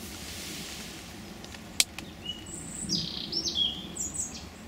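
Wild birds chirp in countryside near a feeding pheasant, faint high calls scattered across the clip with one sharp brief click, over a steady low outdoor background.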